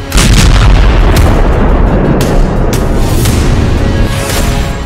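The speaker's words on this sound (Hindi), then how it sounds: "धमाका इतना जोरदार था कि आसपास की दुकानों में लगे शीशे टूट गए।" A loud, continuous roar of a terrorist bomb blast in Jammu and Kashmir, heavy blasts and booming reports, with several sharp cracks punching through a dense rumbling din.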